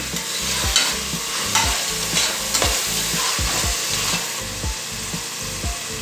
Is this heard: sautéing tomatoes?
yes